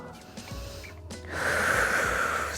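Deep breath during a muscle recovery exercise: a slow, noisy intake followed by a longer, louder airy exhale, close to the microphone and with no speech.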